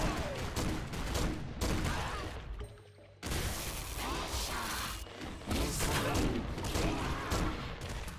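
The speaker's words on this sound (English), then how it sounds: "the Doom rifle is way better because it just launches the little dudes" The Doom rifle fires in the video game Nuclear Throne, a dense, loud barrage of continuous gunfire and explosive crashes that pauses briefly in the middle and then resumes with the same relentless intensity.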